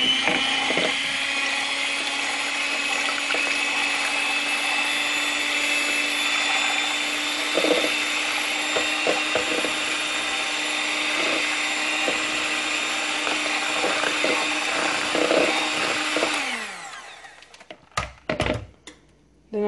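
Steady whirring hum of an electric mixer beating eggs into boxed chocolate cake batter for a chocoflan, with occasional bumps against the bowl, running loud for most of the time before stopping, followed by a few clatters.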